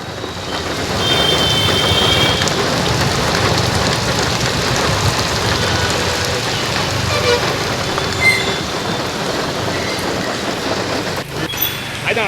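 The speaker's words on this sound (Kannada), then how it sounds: "ಸಂಜೆಯಿಂದಲೂ ಕೂಡ ನಗರದ ಹಲವು ಕಡೆ ವಿಪರೀತವಾಗಿ ಮಳೆ ಆಗ್ತಾ ಇದೆ" Heavy evening rain falling across city streets in Bengaluru, a dense continuous hiss of downpour with steady roar, faint traffic underneath and no talk, holding loud for the whole length.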